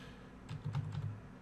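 Computer keys, bracket keys among them, are pressed in a short quiet burst of soft clicks, faint and close, with no talk.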